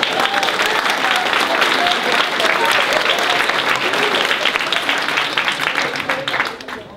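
Loud, dense clapping from an audience at a school science fair, steady and close throughout before tapering off near the end, with faint voices mixed into the crowd.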